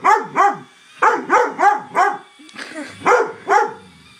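A dog barks repeatedly at a robot, loud and close. The barks come in quick pairs and short bursts with brief pauses between them, and no one speaks over them.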